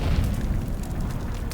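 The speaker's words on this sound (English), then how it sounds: "Grenade out!" A grenade explodes in the video game Dune Awakening, a loud dense boom rumbling across the whole moment and filling the mix, with no talk over it.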